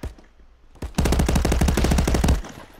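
Gunfire in the VR shooter game Contractors: a couple of single shots, then a rapid automatic burst lasting well over a second, loud and close.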